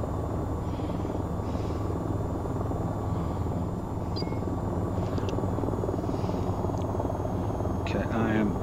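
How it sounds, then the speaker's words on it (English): A helicopter in the VTOL VR game drones with a loud, steady rotor and engine hum throughout, while a player talks over it. "this helicopter is not happy."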